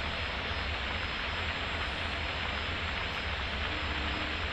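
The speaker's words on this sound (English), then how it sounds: "take the runway and take off" Steady, dense jet engine roar from an F-86F in the DCS flight game as it taxis toward the runway for takeoff, a continuous broadband rumble holding even and close throughout with no talk.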